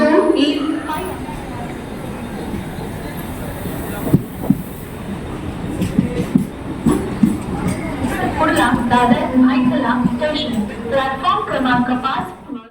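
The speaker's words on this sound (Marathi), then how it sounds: "चला ट्रेन पकडू आधी" A train rumbles and clatters nearby, with metallic clanks and squeals rising toward the end while people talk over it.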